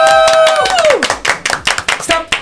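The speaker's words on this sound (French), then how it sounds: "si vous pouviez encore un peu applaudir" Studio audience at a French radio comedy show claps in a loose burst of sharp, distinct hand claps, starting after a sustained tone slides down and fades.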